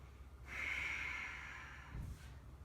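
One long, deep inhale during a slow yin yoga class, breathy and close, rising, holding steady and then fading, with a soft rustle toward the end.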